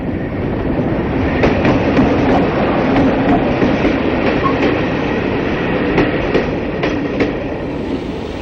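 A British Rail Class 45 diesel locomotive, 45039, hauls a Derby to Penzance train past: a steady, loud rumble with rhythmic clickety-clack of wheels over rail joints throughout.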